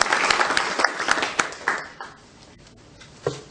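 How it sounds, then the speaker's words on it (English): Brief applause at a school district foundation breakfast, a burst of clapping that quickly thins out and fades to near quiet, with a few scattered claps near the end. "Can we give them a big round of applause?"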